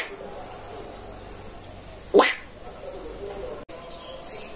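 A human voice imitates a bat's call overhead with a single quick, high, rising squeak, loud and brief against a quiet outdoor background.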